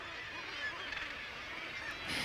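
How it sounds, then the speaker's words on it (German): A northern gannet colony on a German seabird cliff fills the air with a dense, continuous chorus of harsh honking calls, steady and fairly loud throughout. "Basstölpel."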